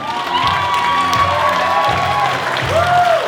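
Wedding guests at St. Clements cheer and clap for the best man, a dense crowd roar of applause and whoops with a few high whistles rising over it, loud and sustained throughout.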